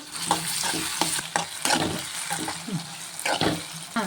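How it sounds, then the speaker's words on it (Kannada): Chopped tomatoes fry with onions in a pan for bisibele bath, a close, continuous sizzle broken by frequent spatula stirs and scrapes against the metal. "ಈ ಟೊಮೆಟೊನೂ ಸ್ವಲ್ಪ ಹೊತ್ತು ಫ್ರೈ ಆಗಬೇಕು"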